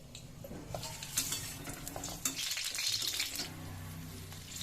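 Capsicum frying in hot oil in a pan, a soft sizzle mixed with stirring and utensil clinks against the pan, close but fairly quiet, with no talk.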